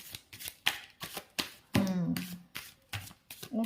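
A tarot deck shuffled by hand, a rapid series of close, crisp card slaps and flutters, one longer riffle in the middle, with faint speech mixed in at points.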